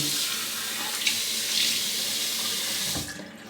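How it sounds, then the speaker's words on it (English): Tap water runs steadily into a sink during a rinse, a close continuous hiss of flowing water that cuts off near the end. "let's have a rinse and see how we did"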